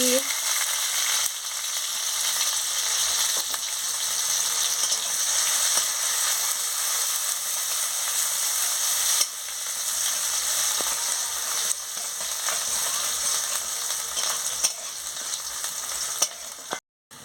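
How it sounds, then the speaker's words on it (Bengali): Chopped onion frying in hot oil with garlic and dried chilli, a loud, continuous crackling sizzle with occasional stirring scrapes, close and alone. "তেল গরম হয়ে গেছে, এবার আমি পেঁয়াজ কুচিটাও দিয়ে দিচ্ছি, দিয়ে ভালো করে ভেজে নিচ্ছি"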